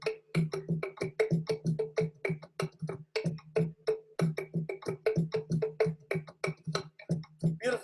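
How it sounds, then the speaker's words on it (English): Teponastli, a hollowed Mexican log drum with two keys, struck in a brisk run of woody, two-pitched hits alternating between low and higher tones, close and clear with no talk. "Another one of our classical drums is a log that is hollowed on the bottom."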